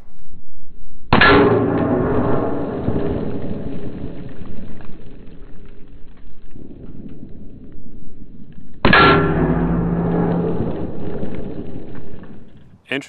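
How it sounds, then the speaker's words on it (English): Two loud, sharp reports from a Mark 23 pistol firing .45 ACP rounds into a Level IIIA ballistic mini shield, each impact followed by a long decaying rumble and spaced several seconds apart, with no talk. "I think this will be the last pistol round we'll shoot at it, but just some 45 ACP out of the Mark"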